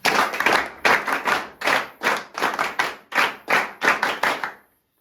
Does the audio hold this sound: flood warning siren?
no